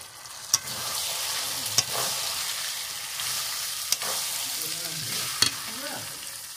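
Mutton added to spiced masala and sautéed in a pan over a wood fire for a mutton curry, with a steady loud sizzle and frying hiss and a few sharp clanks of the spoon against the pan.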